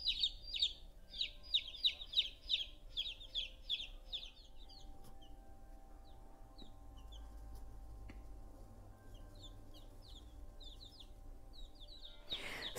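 Two-day-old baby chicks peeping: a rapid string of high, bright peeps close by, then sparser scattered cheeps over a low indoor hum.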